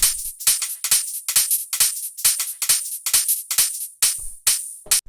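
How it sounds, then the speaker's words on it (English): Crisp, bright hi-hats from an ambient garage house track tick in a steady, swung pattern, built from two layers: a punchy, fast hit and a softer one. The hits come about twice a second, dry and close, with nothing else playing. "And then finally we just have the hi-hats"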